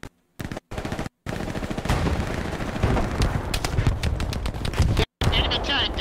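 Gunfire rings out in the World War II shooter game Hell Let Loose. Rapid bursts of close automatic and rifle fire crackle loudly and continuously, broken by brief gaps.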